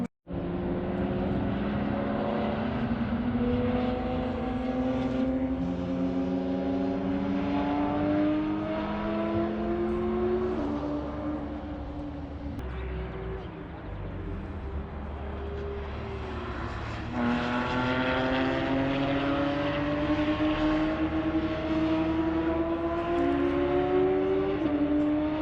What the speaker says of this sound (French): Ah oui, il y a une Lamborghini Super Trofeo, un truc comme ça, très énervé.